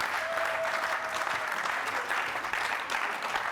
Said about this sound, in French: Acclamez pour la gloire de Jésus.